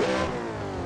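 A loud Nissan 400Z drift competition car engine revving hard up close, a dense roaring growl that holds steady throughout.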